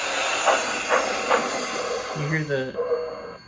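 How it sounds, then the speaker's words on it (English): A C&S Mogul model steam locomotive with a Zimo sound decoder starts up with hissing and soft chuffing, a few rhythmic puffs followed by a rising whine as it begins rolling. "Now, when I start moving the locomotive,"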